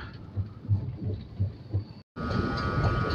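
Shatabdi Express No. 12025 between Pune and Secunderabad running on rails, a steady interior rumble with periodic low thumps of wheels over joints, briefly cut out before resuming louder.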